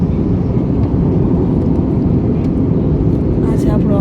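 An airplane lands in Ahmedabad, heard from inside the cabin as a loud, steady low roar of engine and airframe rumble that continues unbroken throughout.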